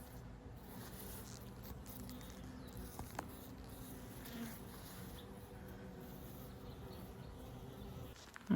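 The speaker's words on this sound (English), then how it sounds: "I just have no idea what kind of bee these are," Honey bees hum steadily around an open beehive during hive work, a faint, continuous buzzing drone with no talking.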